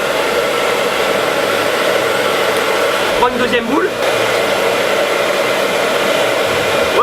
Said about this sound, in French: ici on s'est équipé d'un sèche-cheveux